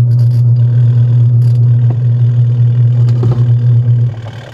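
Washing machine drum spinning with a strong steady motor hum and faint clatter, loud and continuous, easing off at the very end as the spin slows.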